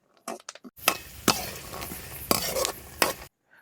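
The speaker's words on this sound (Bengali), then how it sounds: "এবার ওই নুডলস ভেজে নেওয়া তেলে 4টি বাদামও ভেজে নেবো।" Four peanuts frying in oil left over from frying noodles, a light crackling sizzle with several sharp scrapes and taps of a utensil stirring them in the pan, close and fairly quiet.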